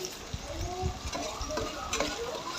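Masala paste fries in oil in a pan for a traditional shengole dish, crackling softly while a spoon scrapes and stirs in uneven, close strokes.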